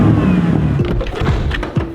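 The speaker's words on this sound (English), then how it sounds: "I'm gonna show you guys what the stock intakes sound like when you rev the car up." A BMW F10 M5 on its stock intakes revs up repeatedly, with several rising engine sweeps over a steady loud idle, heard close and alone with no talking.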